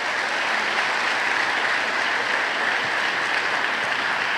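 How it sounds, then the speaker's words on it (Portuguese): A church congregation claps loudly and continuously, a dense, even roar of applause filling the room with no break. "Pode aplaudir o Senhor mesmo"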